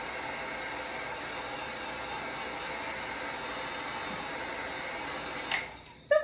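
A hair dryer blows steadily on wet paint, a constant close whooshing hum that holds evenly for several seconds before a brief dip and clatter as it is moved or switched off, with no voices.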